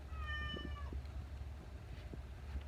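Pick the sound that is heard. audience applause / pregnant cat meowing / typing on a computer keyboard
pregnant cat meowing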